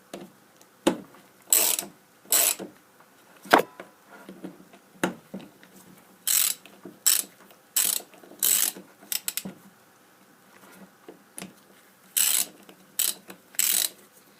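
Ratchet wrench tightening the screws of a Bosch CP pump during reassembly, a series of sharp clicking bursts at irregular intervals, some short and some longer runs, close and clear with no talking.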